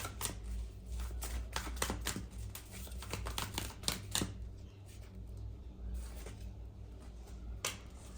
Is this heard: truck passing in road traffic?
no